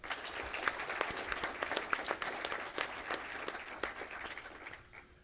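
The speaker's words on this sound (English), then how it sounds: "let's give them another great big round of applause" A crowd at a foundation donor recognition and awards presentation claps steadily and enthusiastically for several seconds, the dense patter of hands fading out at the end.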